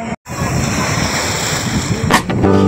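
Sea waves wash ashore during a beach outing, a loud steady roar of surf mixed with strong wind buffeting the microphone, with a brief dropout and a short voice near the end.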